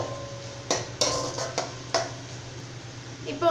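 A metal spatula clinks and scrapes against a pan as ground spice paste is sautéed for a Tamil-style peas pulao, with scattered knocks over a low stove hum while someone talks.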